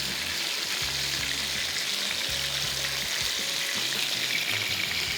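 Fish frying over high heat in a non-stick pan gives off a steady, dense hiss and sizzle that runs without a break, with faint low bumps beneath it.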